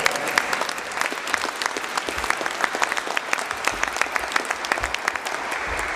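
A crowd applauds steadily for about six seconds, a dense, even patter of many hands clapping at a moderate distance, with no voices standing out above it.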